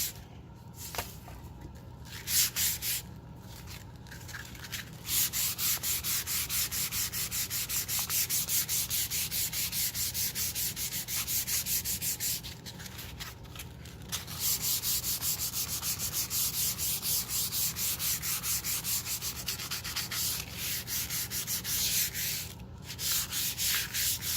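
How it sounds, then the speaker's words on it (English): Sandpaper lightly rubbing along the grain of painted wood to give a worn look, long steady scratchy strokes close up, broken by a few short pauses between passes. "rub across the top. And I always go in the direction of the grain."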